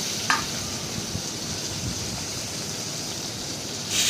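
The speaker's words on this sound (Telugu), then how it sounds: "ఇంకా వేగుతూ ఉన్నాయి అన్నమాట." Onion, tomato and green chilies with curry leaves fry in a pan, a steady close sizzle and crackle holding even throughout, with a faint clink near the start and a brief brighter hiss at the end.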